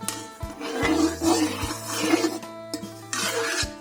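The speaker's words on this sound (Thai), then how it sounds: "คนสักเล็กน้อย นะครับ" Eggs whisked for a Thai-style omelette, giving a steady rasping, scraping stir in short strokes over a background hum, fairly close and continuous.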